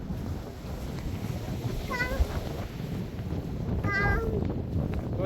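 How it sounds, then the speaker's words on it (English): Steady warm wind blowing at a calm private beach, a continuous broadband rush buffeting the microphone throughout, with a voice and brief chirpy vocal sounds heard over it. "But it's still warm wind, Erika."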